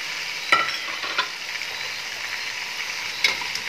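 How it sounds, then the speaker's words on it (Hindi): Potatoes, tomatoes, green chilies and onions stirred in a frying pan, giving a soft sizzle with a few distinct scraping clacks of the spoon, no one talking. "अच्छी तरह से हिला लेना है।"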